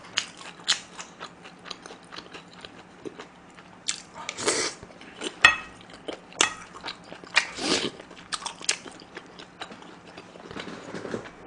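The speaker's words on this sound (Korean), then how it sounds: "무승찬의 어머니표 떡볶이만 다 먹을게요" Garlic-heavy tteokbokki rice cakes are bitten and chewed up close, with soft wet chewing and sharp crunchy bites repeating irregularly throughout and no talking.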